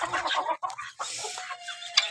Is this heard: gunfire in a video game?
no